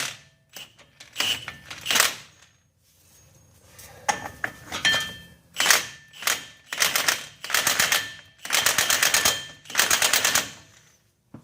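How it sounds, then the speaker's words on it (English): An impact gun works on the front axle of a Dodge Ram 2500/3500 with the 6.7 Cummins during a u-joint replacement. It fires in loud, close rattling bursts that grow longer and more regular toward the end, with short pauses between. "If you use the impact gun, do this, do it on low speed and stop and check it"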